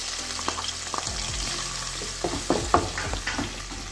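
Chopped green chillies and onions fry in hot oil, a steady sizzle broken by clattering stirs and scraping of a spoon against the pan.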